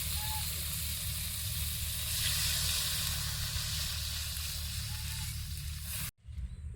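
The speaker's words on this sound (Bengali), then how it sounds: "ফুলকপি আলুটা ভালোভাবে ভেজে নিয়েছি এবার জল দিয়ে দেবো" Water poured onto frying cauliflower and potatoes sets off a loud, close sizzle and hissing steam that swells briefly, then drops away sharply near the end, with a voice speaking over it.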